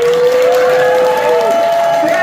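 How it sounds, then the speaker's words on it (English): Audience applause for the Blair Witch Project cast at a Scarefest Weekend reunion panel, loud continuous clapping and cheering from a crowd, with a voice calling out over it. "give them a big round of applause"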